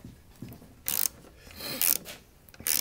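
A ratchet works a nut on a CR Laurence tip-out window mechanism in three short bursts of sharp, close clicking, with quiet pauses between them.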